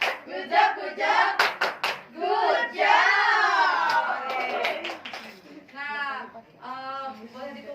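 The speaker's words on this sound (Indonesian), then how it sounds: "Kasih tepuk good job." A school class claps rhythmically and chants together in unison during a microteaching lesson, loud and close, with a teacher's voice and children's voices mixing over the sharp claps.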